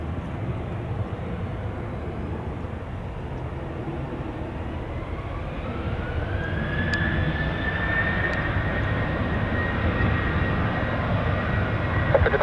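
An airliner takes off at Orlando International Airport, its engines roaring steadily and growing louder, with a rising whine joining partway through as the aircraft accelerates down the runway and climbs away at a moderate distance.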